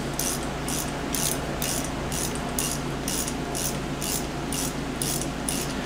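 A ratchet clicks in a quick regular rhythm while tightening a bolt on a Yamaha Commando motorcycle, a dozen or so close, crisp bursts of pawl clatter over faint background hum.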